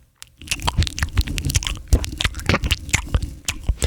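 A person imitates a dog licking itself with wet, smacking, slurping mouth sounds, close and loud in a rapid irregular rhythm.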